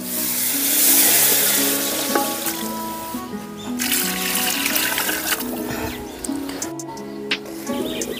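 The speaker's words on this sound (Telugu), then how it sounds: "ఇప్పుడు బిర్యానీకి సరిపోయే వాటర్ వేసుకుందాం." Water poured into a cooking pot for jackfruit seed biryani, a continuous splashing trickle that is loudest at first and then settles, close and steady, with faint kitchen clatter and a low background tone.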